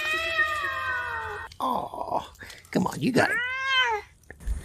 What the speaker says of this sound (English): I'm going to show my little kitty.